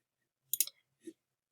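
Two quick clicks, a sharp double tap followed by a softer single click, from a computer mouse pressing a button in an app's user-invite screen. Close and isolated against silence.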